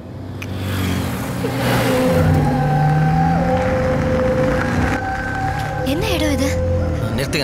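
A car engine pulls away with a steady rising drone while people talk and background music plays over it. The revving holds loud and close for several seconds.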